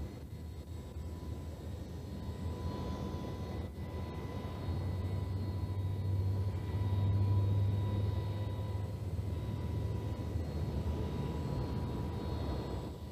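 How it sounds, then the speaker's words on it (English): A McDonnell Douglas DC-10 airliner taxis on the ground, its engines a steady, continuous rumble and whine heard from inside the cockpit, with a low hum swelling slightly midway. "Here on the ground, the DC-10 is being steered out from the left seat."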